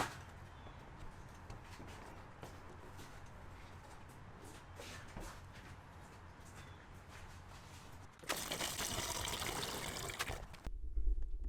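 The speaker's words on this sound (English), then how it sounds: "I've got the water into the reservoir just to test to see how these things are going to work." Water pours steadily into the windshield washer fluid reservoir of a 2014 Jeep Grand Cherokee, a soft continuous trickle that swells into a louder, fuller gush near the end before stopping abruptly.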